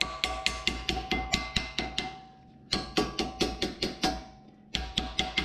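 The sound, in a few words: tapping new brake pad clips into place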